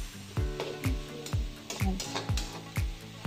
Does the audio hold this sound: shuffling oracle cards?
no